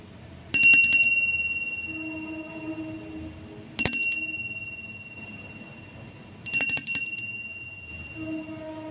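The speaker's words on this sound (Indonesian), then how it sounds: "kita akan langsung memulai dengan tanda lonceng berbunyi" A bright bell rings three times at steady intervals, each strike ringing out and fading, heard clearly over a quiet background.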